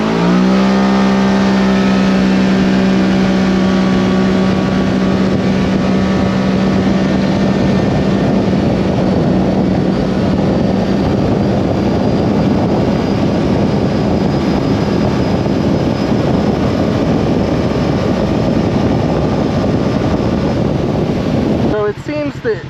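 A Kawasaki KRX side-by-side fitted with a Badass drive belt runs hard for a long stretch, its engine rising in pitch at launch, then a steady loud roar under heavy wind rush until an abrupt stop.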